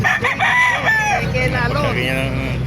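Rooster crowing at a crowded chicken market in Calumpit, Bulacan, its drawn-out calls rising and falling amid other fowl and dense chatter from vendors and buyers close by.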